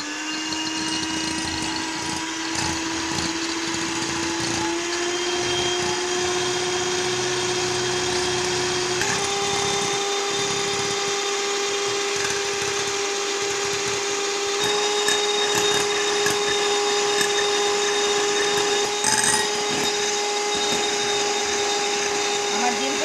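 Electric beater machine whipping two egg whites for snowball custard, a steady loud motor whine with shifting pitch running continuously, a voice speaking faintly underneath.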